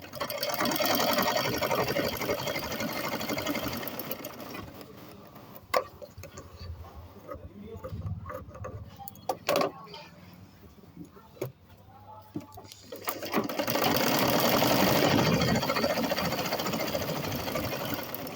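A sewing machine stitches a blouse, running in steady whirring bursts at the start and again near the end, with a quieter stretch of scattered clicks and handling taps in between.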